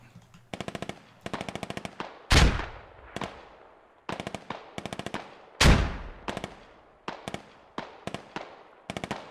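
Gunfire in the Squad military shooter game: rapid automatic bursts alternate with two heavy booming blasts that ring out and decay, loud and close, with no talk.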